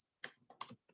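Several quick clicks from a computer keyboard in a quiet room, soft and close, coming in small bursts of keystrokes with brief pauses between them while a product name is typed.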